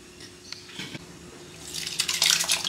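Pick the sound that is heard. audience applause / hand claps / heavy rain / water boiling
water boiling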